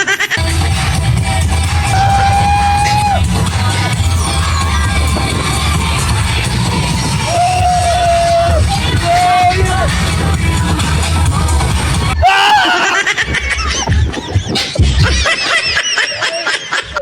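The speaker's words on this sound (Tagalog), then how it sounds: "Grabe yung sigaw mo" Riders on an extreme amusement ride scream loudly and continuously, with rising and falling wails over heavy wind and mechanical rumble. The noise cuts sharply partway through into shouting and clattering.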